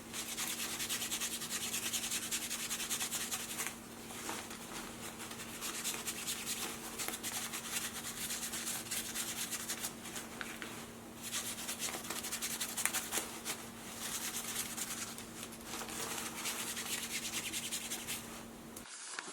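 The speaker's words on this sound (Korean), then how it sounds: "중성세제 원액을 어, 이렇게 묻혀 놓은 다음에 솔로 문질러 준 다음에" A brush scrubs a down-filled padded jacket coated with undiluted neutral detergent, producing close, rapid rasping strokes in continuous bursts with a few brief pauses and a steady background hum.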